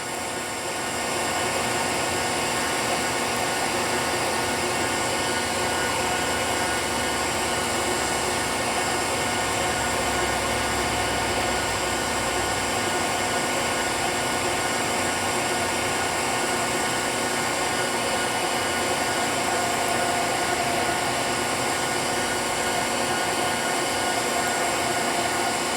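A ProtoTRAK CNC mill machining a honing fixture for watercraft cylinders, giving a steady, loud whirring drone with tonal hum that runs unbroken throughout, no voices.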